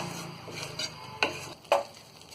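Mustard greens saag stirred in a pan over a gas flame produce a low frying hiss broken by a few sharp spoon scrapes against the pan.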